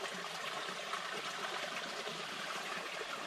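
Small creek water flowing and trickling steadily, a soft continuous close babble with no voices.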